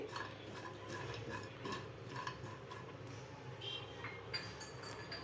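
Coconut slices and cashew pieces fry gently in a pan over low heat, with faint stirring scrapes and soft clinks against the pan under a quiet steady background.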